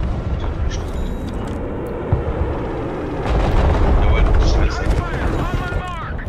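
Artillery fire mission in the Broken Arrow video game: a steady rumbling barrage of distant booms and blasts, swelling louder midway, with faint game voices in the mix.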